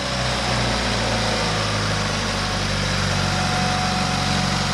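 A small engine idles steadily up close, a loud even drone that holds unchanged from start to finish with no voices over it.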